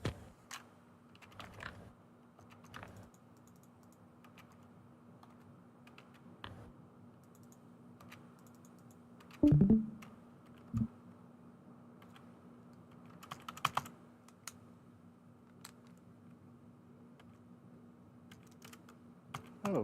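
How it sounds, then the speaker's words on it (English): Scattered keystrokes and clicks tap on a computer keyboard during an arcade gaming stream, faint and sparse over a low steady hum, with a short louder clatter midway. "I guess my keyboard doesn't want to work right now."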